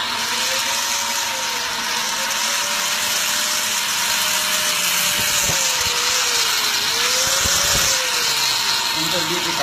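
Grinder motor running in a homemade electricity generator demo, a steady loud whine with slowly wavering pitch throughout, with some clattering handling noise partway through.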